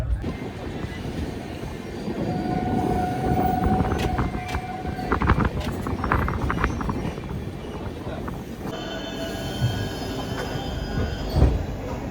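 A passenger express train on an Indian rail route in Odisha, heard from aboard: a steady rumble of wheels on rails with rhythmic clatter and a sustained squealing tone from the wheels, close and continuous.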